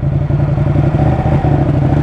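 Ducati motorcycle engine runs at a steady idle close by, a loud, even low throb with a slight mechanical clatter and no talking.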